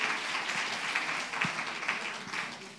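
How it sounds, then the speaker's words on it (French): Applause from an audience at a French-language talk or conference, a steady wash of many hands clapping at moderate distance, fairly even throughout with no voices standing out. "On peut applaudir effectivement."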